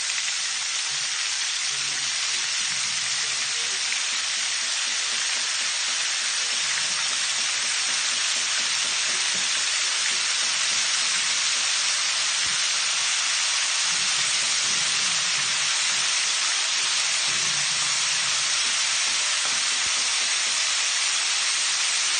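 Calamares (squid rings coated in flour and cornstarch) frying in hot oil: a continuous, loud sizzling hiss with faint crackles running steadily throughout, no talking.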